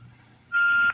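A steady high electronic beep tone on a telephone hold line starts halfway through and holds for about a third of a second, over faint low background hum.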